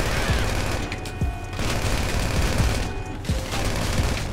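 Gunfire in GTA 5 roleplay, a sustained dense fusillade of overlapping shots with sharp cracks and booms at irregular intervals, loud and continuous over a noisy background.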